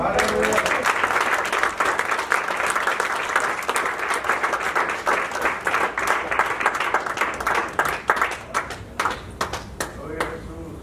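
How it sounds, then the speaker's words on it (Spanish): Church congregation applauding during a Spanish-language sermon, a steady wash of many hands clapping close and loud for about ten seconds, with scattered sharper claps standing out as it thins toward the end. "Dele un aplauso a Cristo."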